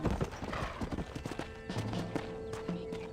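Horse hooves clip-clop in the Red Dead Redemption video game, a quick run of sharp close hoofbeats mixed with game sound effects and tones, loud and busy throughout.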